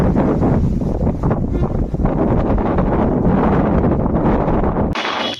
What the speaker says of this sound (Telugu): ఇంకా ఈ గాలి చూడండి గైస్